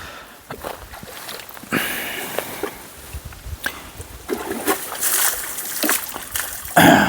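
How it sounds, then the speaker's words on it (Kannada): An animal drinks from a lake: intermittent splashing and sloshing water, irregular and close, with soft lapping between louder bursts. "ನೀರು ಕುಡಿತಾ ಇದೆ ಇವಾಗ."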